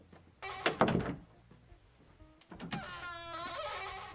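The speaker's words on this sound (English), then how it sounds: "This door is so squeaky." A squeaky door swings open and shuts, with a thump and creak early on, then a long wavering squeal of hinges, heard close with no talk.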